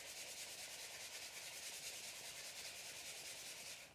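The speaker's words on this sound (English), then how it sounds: "I'm just going to give them a light sand." Steady, continuous rasp of a low-grit sanding block rubbed over wooden pumpkins, a close, even scratchy hiss lasting about four seconds with no pauses, fading slightly at the very end.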